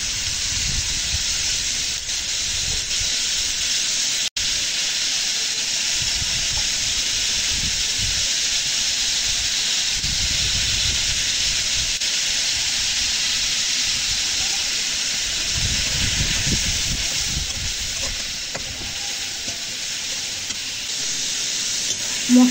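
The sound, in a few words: frying spice masala for fish in pan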